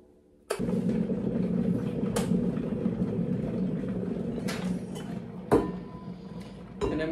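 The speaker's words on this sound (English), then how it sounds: "And then we'll stick the kettle on." An electric kettle heats water in a kitchen, giving a steady low rumbling hiss that starts after a brief silence and carries on throughout, broken by a few sharp clinks. No one speaks.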